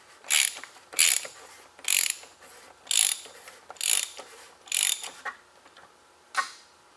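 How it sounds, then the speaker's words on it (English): A ratchet tightening a bolt on a Jeep Grand Cherokee during a service, six quick bursts of sharp clicking about once a second, then a pause and one final burst, close and clear. "we will take the ratchet and tighten it down the rest of the way"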